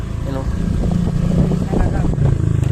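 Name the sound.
trail motorcycle engine straining on narrow dirt track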